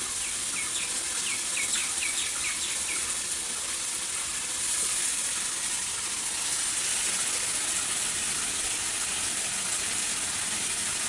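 Bagair fish sizzle in hot oil in a village-style kitchen: a steady, even crackling hiss that holds at a constant moderate level throughout, with faint sharp pops now and then and no voices.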